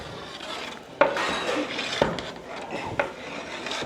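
Rice kheer with vanilla powder being stirred in a pot: a continuous scraping, rubbing stir broken by clear utensil knocks against the pot about once a second, close and fairly loud, with no talking.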